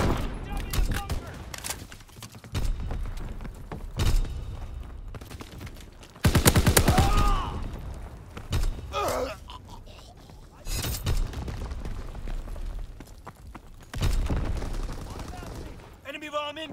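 An air strike bombing run lands in the World War II shooter Call of Duty: WWII in a trench setting, with heavy booming explosions and rattling gunfire in repeated loud bursts and announcer-style voices speaking between them.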